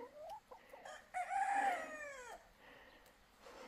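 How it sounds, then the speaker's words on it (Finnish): A farm rooster crows once, a drawn-out call of about a second, heard at moderate distance and fairly faint over quiet outdoor background, with a few soft clucks before it. "Kukko huutaa jo"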